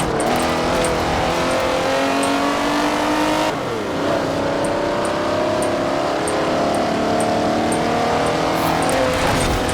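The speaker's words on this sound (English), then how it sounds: "What an awful car this thing is." Car engine in Forza Horizon 4 revving loudly and steadily, its pitch climbing, dropping abruptly near the middle as if shifting gear, then climbing again, with faint tyre and track noise underneath.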